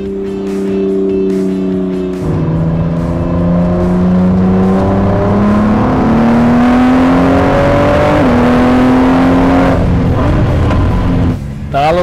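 A Ford Performance car with a 650-horsepower 3.5-litre EcoBoost biturbo engine revs hard in loud, sustained runs, its pitch climbing through the gears with brief drops between shifts, then cutting off near the end.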